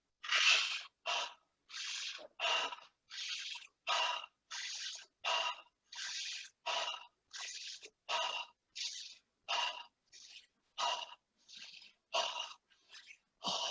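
Rapid rhythmic Wim Hof breathing, a long run of about twenty forceful breaths in and out at an even, quick pace, close and breathy with no talking.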